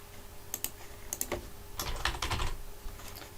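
A single word typed on a computer keyboard, a few quick, close key clicks in two short bursts against a quiet room background.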